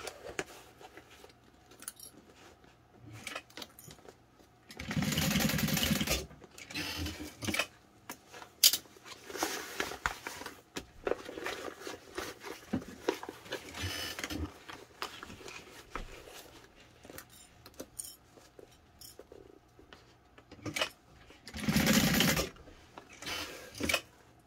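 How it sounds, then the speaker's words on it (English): A home sewing machine basting a seam in fabric runs in several short bursts of rapid mechanical stitching, with pauses filled by fabric handling and small clicks. "And now I'm going to baste it in."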